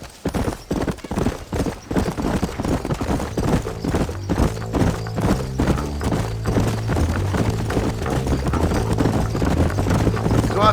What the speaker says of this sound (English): Get on your horse, amigo.